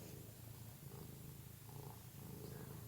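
A house cat purrs close and continuous, a low rhythmic rumble with no other sounds.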